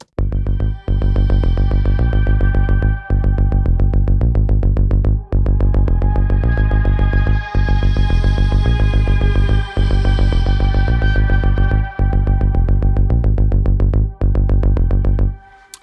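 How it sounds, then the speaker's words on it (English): Synth part in Logic Pro treated with a stereo delay, quarter note on the left and eighth note on the right, a loud sustained tone pulsing in steady repeated notes with brief dips between phrases. "it's a stereo delay, so I've got a quarter note on the left and an eighth on the right"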